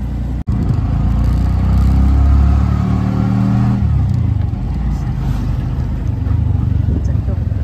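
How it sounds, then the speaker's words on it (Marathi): Auto rickshaw engine droning loudly from inside the cabin while riding, a rough steady putter that rises briefly then settles, with voices underneath. "आता आमचे भाऊ भेटले, त्यांच्याच रिक्षात आम्ही चाललो."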